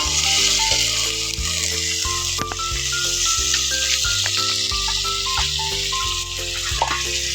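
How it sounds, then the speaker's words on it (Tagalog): Food sizzles steadily in a pan, a loud continuous hiss with crackle that runs the whole time, while bright sustained tones from background music sit over it and no one speaks. "Hindi nga baka matunog yung aking niluluto."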